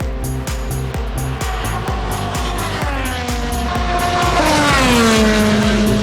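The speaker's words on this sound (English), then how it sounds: "track cars going by over 200 miles per hour" IndyCar race cars screaming past at over 200 mph at the Indy 500, loud high-revving engines with sharp repeated pass-bys and a rising then falling whine as the cars sweep close by in quick succession.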